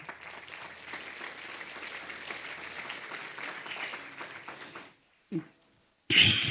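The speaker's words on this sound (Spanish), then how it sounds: "Dale un aplauso al Señor, por favor." A church congregation applauds, a dense steady clapping for about five seconds that stops abruptly, followed by a brief thump and then a loud burst of noise at the end.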